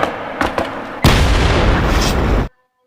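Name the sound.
explosion in a drama film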